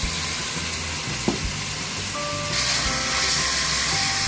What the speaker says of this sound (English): we've got the bacon cooking